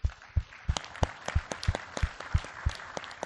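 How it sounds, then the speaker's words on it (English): Audience at a forum closing ceremony applauding, with clear, evenly spaced individual claps standing out over a softer bed of scattered clapping, close and fairly loud, with no talk. "Let us give them a great applause."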